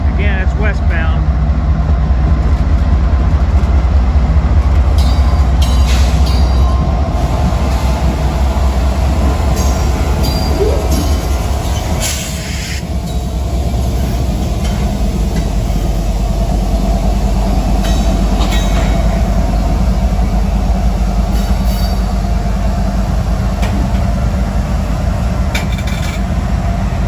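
Westbound Norfolk Southern double-stack freight train passing in Princeton, Indiana, a steady loud rumble of wagons rolling by for the whole stretch, with a brief dip midway and voices in the background.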